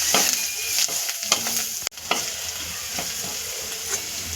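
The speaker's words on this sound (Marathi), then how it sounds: "हे मसाले आपण सगळे व्यवस्थित परतून घ्यायचे" Spices for a raw green tomato curry sauté and crackle in a pan, a dense close sizzle broken by repeated scraping strokes of a spoon stirring them, with one sharp knock partway through and no voices.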